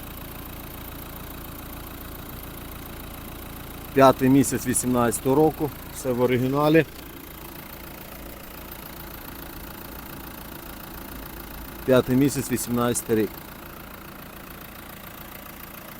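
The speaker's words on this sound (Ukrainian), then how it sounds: "Моторчик працює гарно" A 2018 Renault Kadjar engine idles steadily in the background, a low even rumble, while someone speaks in two short bursts over it.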